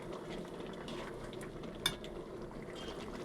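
Eggplant and potato curry with coriander leaves is stirred gently in a pot, a faint low bubbling simmer with soft scraping and one brief spoon clink, no speech.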